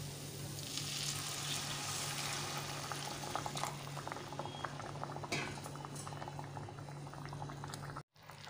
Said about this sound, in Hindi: यहाँ पानी में उबाल आ चुका था